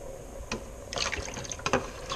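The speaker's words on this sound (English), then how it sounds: "It feels pretty hot to me, so I'm going to dump it back into the water container." Hot water from an espresso machine is poured back into its water container, a soft splashing trickle with a few brighter splashes, close and fairly quiet.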